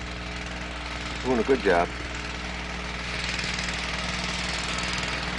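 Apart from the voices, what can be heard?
lawn mower engine mowing across a field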